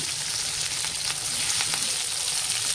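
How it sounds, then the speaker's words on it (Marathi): Dill greens for shepu bhaji roasting in a hot pan, a steady bright sizzle with faint stirring scrapes throughout, close and continuous with no voices. "हे छान मस्त भाजून घेणार आहे"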